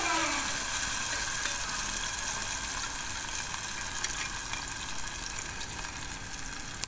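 A mackerel and tomato mixture sizzles in a tablespoon of hot oil while it is stirred, a dense continuous frying hiss at moderate level with small crackles throughout.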